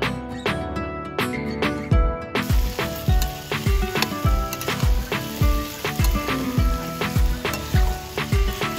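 Potatoes and onion fry in a pan with a loud, close sizzle, while the spatula strikes the pan in a quick regular beat of sharp clacks throughout, with no voices.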